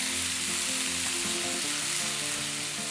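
Fresh rosemary sizzles and fries in a hot pan, cooked for rosemary butter steak; the close sizzle is steady and loud from start to finish, with no voices.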